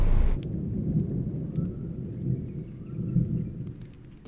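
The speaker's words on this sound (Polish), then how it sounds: "Trochę grzmi" Thunder rumbles low and long near a tropical beach path, a deep rolling roar that swells and fades over several seconds, heard alone without talk.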